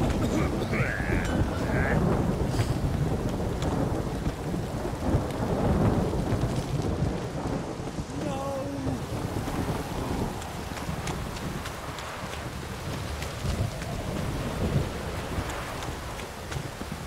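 Rain and thunder in The Witcher 3: a steady downpour hisses throughout, with deep rolling rumbles of thunder and a brief voice partway through.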